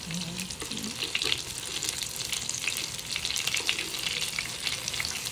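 Pork sizzles and crackles steadily over low heat in a pan with crab, a constant close frying hiss with occasional spatters.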